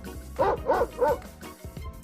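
A dog barks three times in quick succession, close and fairly loud, followed by a few softer yips and whimpers against a quiet background.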